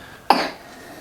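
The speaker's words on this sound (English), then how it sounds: "You've got a little bit of a bad cough, haven't you?" A single short cough from a four-year-old girl, sharp and close, fading quickly into a quiet room.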